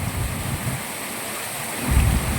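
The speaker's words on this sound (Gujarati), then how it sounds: "વરસાદ વધી ગયો છે પવન વધી ગયો છે વીજળીના કડાકા બડાકા થાય છે" Steady heavy monsoon rain with strong wind fills the scene with a dense hiss, and a low rumble of thunder swells near the end.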